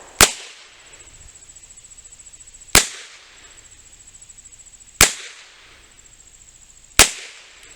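Four sharp gunshots from an antique Iver Johnson revolver crack out at roughly two-second intervals, each loud, close and followed by a short decaying ring, with quiet background hiss between.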